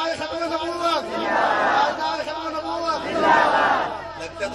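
A crowd at a religious gathering chants a slogan in unison, loud massed voices rising in two strong surges with a leader's call between them.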